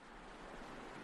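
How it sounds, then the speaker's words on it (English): Ocean waves on a tropical beach with a white sand shore, heard as a faint, continuous wash of surf with no distinct breaks, lasting about a second. "The only sounds you hear are waves softly splashing against the shore"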